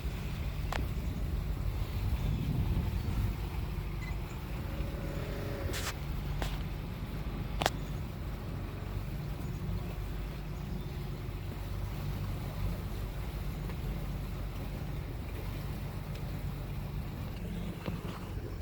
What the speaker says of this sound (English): There's a nice little motorboat with 400 horsepower, 1600 horsepower.